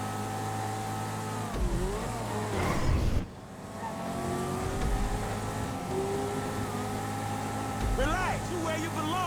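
Car engines roar and rev through a street race in GTA 5, with a loud surge and a sharp drop near the three-second mark and a brief squeal toward the end, while a voice talks over it.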